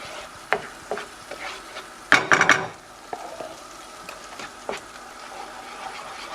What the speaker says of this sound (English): as it really starts to sizzle, we want to start adding our puree